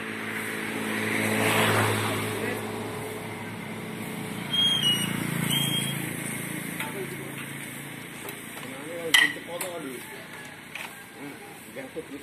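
A homemade mosquito fogging machine with an injection pump starts up and runs, its engine a steady, broad roar that swells and eases, with clanks and rattles partway through and a voice speaking over it at times.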